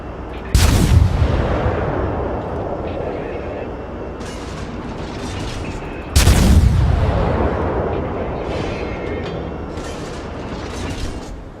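Two heavy warship gun salvos boom out in World of Warships, an Erie-class cruiser battle, each a sharp loud blast that rumbles and decays over several seconds, with faint mechanical clatter between them.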